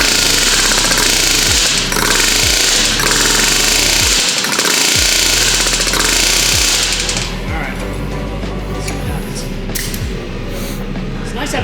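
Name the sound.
air hammer in short bursts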